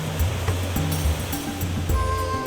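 Water pours over Wawa Dam in Samar in a constant broad roar, with a low tonal music bed running underneath.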